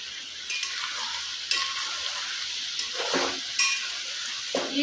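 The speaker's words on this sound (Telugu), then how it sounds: "ఇప్పుడు ముక్కలు చూసారా మనకి ఈవెన్గా ఉడుకుతున్నాయి కదా" Chicken pieces fry in oil for a spicy chicken pickle, with a close, continuous crackling sizzle and periodic louder bursts as the pieces are stirred, no talking.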